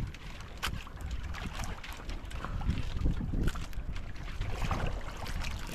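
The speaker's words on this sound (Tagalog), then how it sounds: "Malakas yung hangin." Strong wind at sea whips past the microphone aboard a small boat, a gusty, rumbling roar with bursts of water slap and hull knocks, fairly loud and rising toward the middle.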